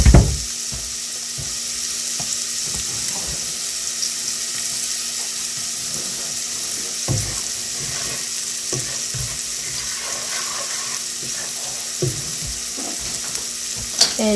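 Onions frying with whole spices in a pan for Indian tikka masala or curry, a steady broadband sizzle throughout with occasional sharp clinks and stirring knocks, no talking.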